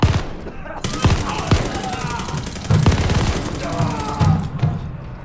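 Grenade blast and heavy gunfire from the World War II shooter Call of Duty: Vanguard, with sharp loud bursts and rattling automatic fire running throughout, plus a deep thump partway through and voices calling out beneath the combat.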